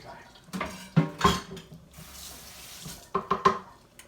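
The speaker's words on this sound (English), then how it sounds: "Just stir it up a little bit." Metal spoon stirring meatball sauce in a pot, with a few sharp clinks and scrapes against the pot amid soft kitchen clatter, close and fairly quiet.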